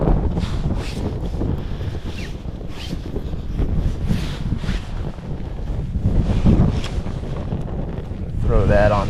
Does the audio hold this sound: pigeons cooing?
no